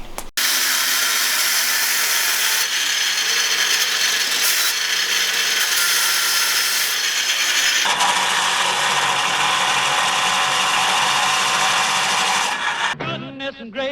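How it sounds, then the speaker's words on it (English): An angle grinder grinds out a weld on the front end of a Mitsubishi Lancer Evolution IX, a loud continuous high-pitched whine with abrasive scraping that shifts pitch midway under load, then briefly stops and restarts. "so what we're going to do now, grind her out"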